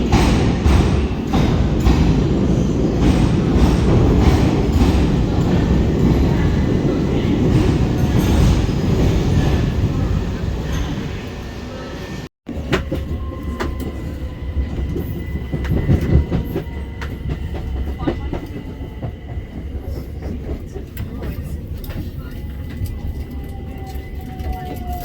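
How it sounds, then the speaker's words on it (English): A Class 377 electric multiple unit pulls into Portsmouth and Southsea station, its rumbling wheels and clattering rail joints loud at first, then easing to a quieter hum and squeal as it slows, with someone talking nearby. "coming in now is our train to Hove"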